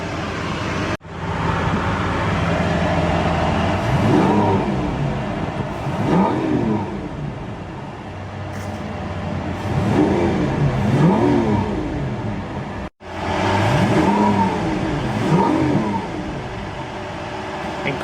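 A Lamborghini Aventador engine revs loudly and close by in several rising and falling bursts over a deep idle, with brief cuts in between.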